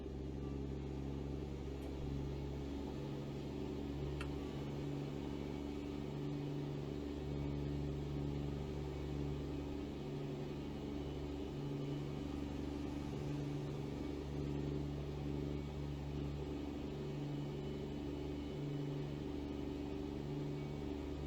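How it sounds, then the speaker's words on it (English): A heavy truck engine in American Truck Simulator drones through an open cab window, a steady low rumble with layered harmonic hum holding constant for about twenty seconds, no one talking. "Go ahead and roll down this right window so y'all can hear the engine a little bit"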